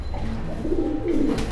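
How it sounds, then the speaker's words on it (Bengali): A male pigeon at a pigeon farm gives a short, close, low cooing call with a few throaty pulses, clear against quiet surroundings. "এই যে নটটা ডাকাডাকি একটু দেখানোর জন্য চেষ্টা করতেছিলাম"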